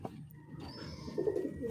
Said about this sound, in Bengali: এই যে দেখেন আমার সুন্দর কবুতরগুলো।